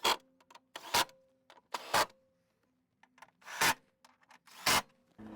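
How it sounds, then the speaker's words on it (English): A 12mm socket ratchets down the bolts of a Toyota Prado LC250 battery tray, giving sharp, close clicking and rasping bursts in uneven clusters, with quiet gaps between them. "Using a 12mm socket will secure that tray back into place."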